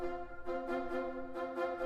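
Hollywood wind staccato orchestral sample patch, written to support cello spiccato, plays short detached woodwind chords in a steady pulsing rhythm, soft and on its own.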